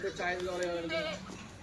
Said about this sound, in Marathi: बघा शेळी